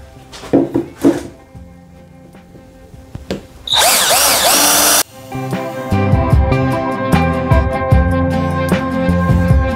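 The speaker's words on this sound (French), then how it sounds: "je vais percer 4 petits trous pour le fixer sur la face arrière avec des vis" Power drill boring small holes in supermarket MDF for speaker mounting screws: a few knocks and taps, then a loud steady high whine for about a second, followed by clattering handling sounds and short rattly bursts.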